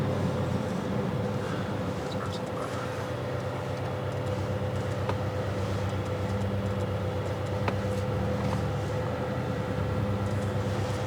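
Porsche GT4RS engine droning steadily from inside the car during a ride-along, a low continuous rumble with road noise, fairly subdued and without talk.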